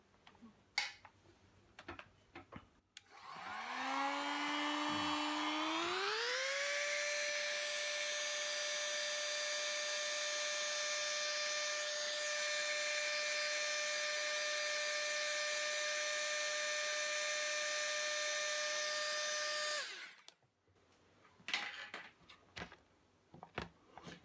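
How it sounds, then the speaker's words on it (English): A heat gun whirs up with a rising pitch, then blows a steady, loud whine of hot air onto a SEGA Master System Light Phaser label for about fifteen seconds before cutting off, with faint clicks around it. "So I'll just grab a heat gun."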